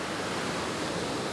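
Steady broadband roar of a waterfall in the Forgotten Falls of Turret landscape, a constant dense rush of falling water with no talk.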